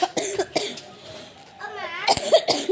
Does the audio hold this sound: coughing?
yes